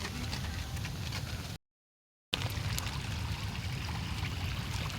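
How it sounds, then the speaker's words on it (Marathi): Natural monsoon spring water runs over a green hillside in a steady, close, hissing trickle and stream, cut by a brief silent gap partway through before the flow resumes. "निसर्गाने निर्माण केलेले हे झरे आहेत बघा"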